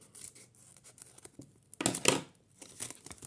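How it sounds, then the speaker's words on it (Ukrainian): Scissors cut open a paper packet, producing crisp snipping and crinkling paper with a louder burst of cutting and tearing midway, close up and with no talking. "Я тут засічки не робила ми відкриємо ножицями."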